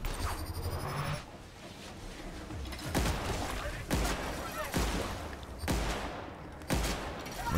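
A plasma gun fires in the video game The Outer Worlds, with punchy discharges spaced about a second apart over a busy backdrop of combat noise and talk.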